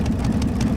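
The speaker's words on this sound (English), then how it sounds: "Powered by a Rolls-Royce Panzer tank engine." The Ghostbuster pulling tractor from Germany, powered by a Rolls-Royce Panzer tank engine, rumbles with a steady, deep, throbbing drone at a 1994 European tractor pulling event in Holland, with no voices over it.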